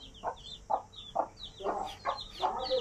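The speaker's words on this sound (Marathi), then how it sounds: "हे बघा ही कोंबडी, आणि तिने काढली तिची 5 पिल्ले" A hen clucks in short, regular bursts with her young chicks, their thin high peeping running over and between the clucks, close by and with no voices.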